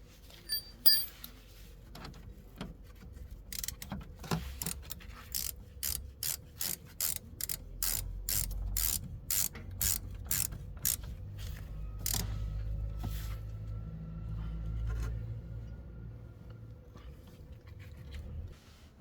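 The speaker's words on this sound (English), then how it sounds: "Now just need to insert and tighten the slide pin which holds the caliper." A ratchet turning the caliper slide pin on a Mercedes C-Class W204 rear brake, a run of sharp rhythmic clicks close up, then quieter mechanical rattling and grinding as the pin seats.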